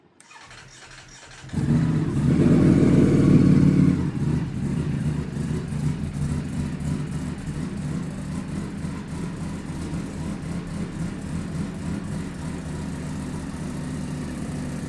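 Motorcycle fitted with a costly aftermarket exhaust starting up, a loud burst of revving right after ignition, then settling into a steady, rumbling idle that holds close and prominent to the end.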